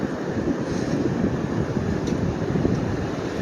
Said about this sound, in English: It's a little windy. I don't know if the sound's picking up.